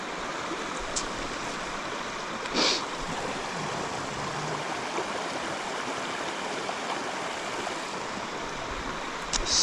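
Water rushing in Big Wilson Creek, a stream on the Appalachian Trail that hikers must ford. It makes a steady, close, broadband rush with no pauses, heard alone.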